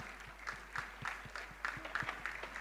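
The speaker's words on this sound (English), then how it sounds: "Let's give them a big round of applause for their hard work." Applause from an audience at a school annual day performance, heard as quiet, rhythmic clapping with fairly regular claps that sound thin and somewhat distant, with a low hum underneath.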